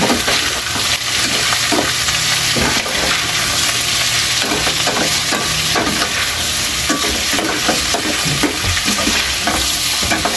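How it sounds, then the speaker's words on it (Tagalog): Beef skin adobo stewed with tausi frying in a pan while being stirred, a loud continuous sizzle broken by repeated scraping strokes of the spoon against the pan. "Haluin po natin ulit para hindi matutong."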